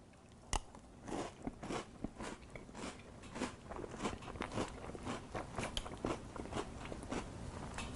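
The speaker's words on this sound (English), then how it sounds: "now I am going to get into the cookies and cream cereal with milk" Crunchy Dippin' Dots cookies and cream cereal with milk is being eaten up close, with repeated sharp bites and chewing crunches in an uneven rhythm and no talking.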